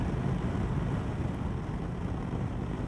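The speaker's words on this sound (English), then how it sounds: "V twin engine, eh?" Indian Chieftain Dark Horse V-twin motorcycle engine rumbling on the road, a constant deep roar blended with wind buffeting, heard from the rider's position.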